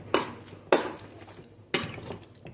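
Cooked tomatoes being mashed in a pan for an instant tomato chutney, three distinct knocking strikes of the utensil against the pan with soft squishing in between.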